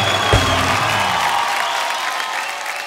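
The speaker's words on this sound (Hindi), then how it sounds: "इसके लिए जोरदार तालियां बजाओ।" Applause from a studio audience at a Haryanvi comedy show, a broad steady wash of clapping that stays loud throughout, with a brief low thump near the start.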